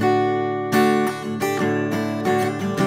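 An acoustic guitar heard through the mid microphone alone in mono, played with a steady run of strummed chords and ringing notes, close and clear, with no voices.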